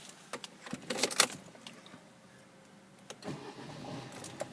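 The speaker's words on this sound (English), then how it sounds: "we'll get the car started" A car cranks and its engine catches in a short burst after a jangle of keys, then drops back to a quiet idle with a few faint knocks and rustles nearby.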